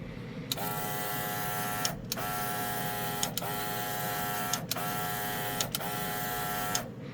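An all-in-one airbrush system sprays a coat of paint onto a model with a steady airy hiss over a whirring, buzzing compressor tone that cuts out and restarts at even intervals, about every second and a half.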